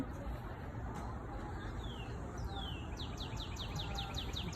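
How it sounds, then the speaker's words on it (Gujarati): Small birds chirp outdoors in a backyard with flowering plants, a few sweeping calls at first, then a quick run of repeated high chirps over steady background noise. "પંખીની અવાજ છે"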